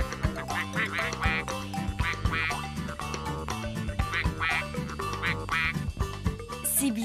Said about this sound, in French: Les canards sont partis. Pourtant, je les entends toujours.